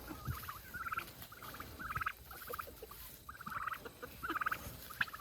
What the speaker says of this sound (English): Yep, turkey's out.